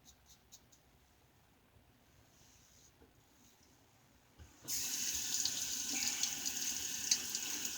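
After a quiet stretch of faint clicks, a tap abruptly opens and water runs steadily into a sink to rinse a Paradigm Diamondback titanium razor, a close, continuous splashing rush with no talking.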